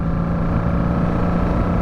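A Honda Magna motorcycle engine runs after a clutch and speedometer rebuild, producing a steady, loud, close droning hum with no change in pitch over a short stretch.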